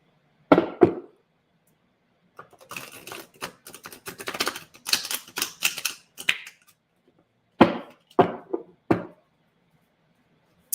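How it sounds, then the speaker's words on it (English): A deck of tarot cards being shuffled by hand: a few crisp snaps, a longer dense stretch of rapid flicking and riffling, then three more sharp snaps, close and alone with no talk. "I'm gonna shuffle the cards real good for Marie"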